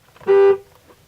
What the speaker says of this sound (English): Don't be afraid to check your horn.